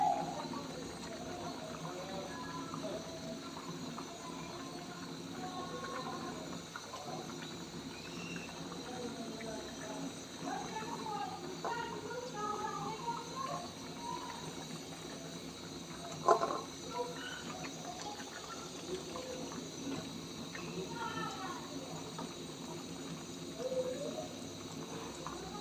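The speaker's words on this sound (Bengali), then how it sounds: "তরকারিতে জাল এসে গেছে, পুরোপুরি বলক আসছে।" Curry simmering at a full boil in a pan, giving a soft, continuous bubbling hiss throughout, quiet and close, with no talking.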